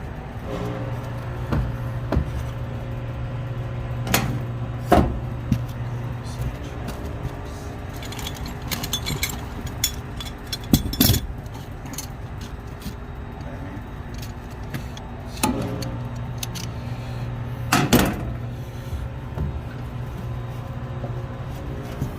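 Worn fan bearings on a Carrier rooftop HVAC unit spin roughly, producing a steady low hum broken by irregular knocks, rattles and clicks that come and go over twenty seconds.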